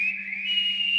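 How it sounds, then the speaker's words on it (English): A cartoon Rockie from Gormiti gives a single sustained whistle as a signal, one bright, steady tone held for about a second, loud and close. "We Rockies can talk by whistling."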